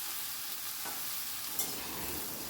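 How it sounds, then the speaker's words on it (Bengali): Okra (bhindi) frying on a high flame in a pan while being stirred continuously, a steady close hiss of sizzling oil with a soft scrape near the middle. "এবার হাই ফ্লেমে ভিন্ডিটাকে আমি ভালো করে ভেজে নেব। অনবরত কিন্তু নাড়তে হবে।"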